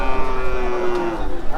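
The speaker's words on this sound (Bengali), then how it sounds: "এখন গরু এখানে আছে" Cattle lowing at a busy livestock market in Bangladesh, one long sustained moo close by over a constant crowd murmur and background bustle.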